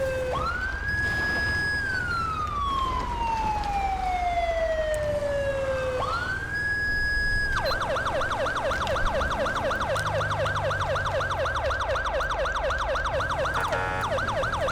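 A police car siren in the video game GTA V with the LSPDFR mod, loud and close, with long rising and falling wails that switch to a rapid, pulsing yelp over a constant engine hum.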